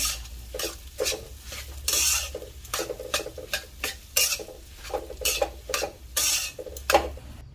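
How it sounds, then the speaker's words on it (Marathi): A spatula mixes smashed potatoes into masala in a pan for a bread pakora or patties filling, making close, repeated scraping and stirring strokes over a soft sizzle in an uneven rhythm. "आता आपण लगेचच त्याच्यामध्ये हे स्मॅश केलेले जे बटाटे आहेत ते टाकून घेऊया आणि छान प्रकारे या मसाल्यामध्ये मिक्स करून घेऊया।"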